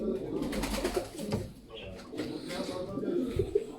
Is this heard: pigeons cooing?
yes